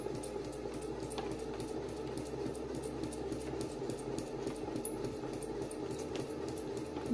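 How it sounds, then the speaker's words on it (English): Sewing machine stitching fabric, a continuous rapid mechanical rattle that stays even and moderately close throughout with no talk. "Lay your fabric down, drop your presser foot, lower your needle, begin with a backward stitch, and then begin to sew."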